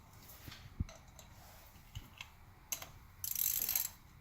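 A ratchet tightens a spark plug on a 2001 Honda CR-V: a few faint, isolated clicks, then a short burst of rapid ratcheting near the end, close by and fairly quiet with no talk.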